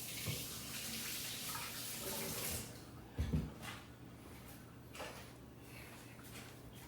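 Tap water runs steadily into a sink while a pan is washed, the flow fairly quiet and constant, then breaking into intermittent splashes and clatters as the stream is cut.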